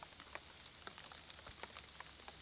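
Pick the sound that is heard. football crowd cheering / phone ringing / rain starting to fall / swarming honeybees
rain starting to fall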